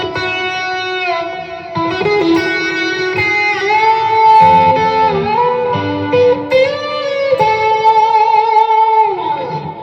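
Electric guitar plays a sustained, singing instrumental melody with bends and long held notes over a backing arrangement, loud and continuous throughout, in a heartfelt tribute.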